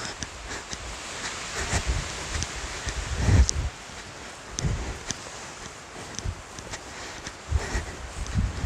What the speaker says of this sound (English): I like walking through the trees, listening to the wind rustle.